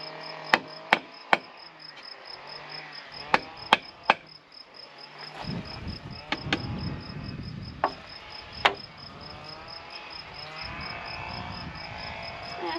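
Small hammer tapping on wood during construction of a vertical shed build, a handful of sharp separate knocks spread unevenly through the clip over a steady background of chirping insects and low rumble.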